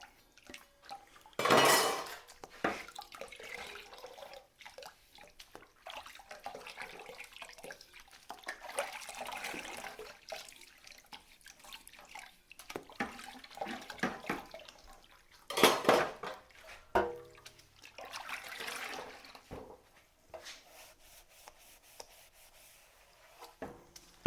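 A metal drywall taping pan gets scrubbed and sloshed in a bucket of water, giving faint intermittent scraping, clanking and splashing with a few sharper knocks and quiet dripping between them.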